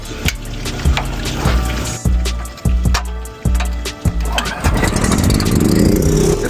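A gas pressure washer rated around 4.5 gallons a minute is pull-started on a driveway, with a series of sharp rhythmic cranking thumps before the motor catches and settles into a loud, steady running roar.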